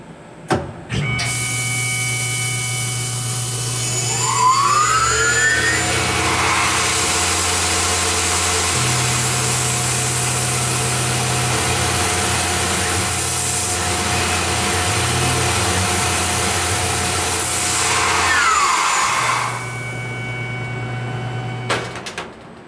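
A Tormach CNC mill cuts a 2D contour with cutter compensation, its spindle whine and cutting noise holding steadily loud. Motor pitch shifts mark the moves, with brief rising sweeps near the start and end, and the clip ends in quieter idling.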